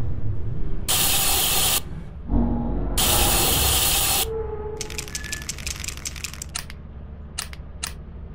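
A spray paint can in Lethal Company hisses in two bursts of about a second each, loud and close, followed by quieter rattling clicks and ambient game noise.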